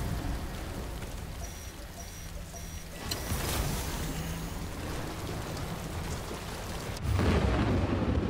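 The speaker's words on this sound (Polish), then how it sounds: "Pada." Steady rain hisses in the video game Death Stranding, a continuous wash of drops that swells louder toward the end, with no talking.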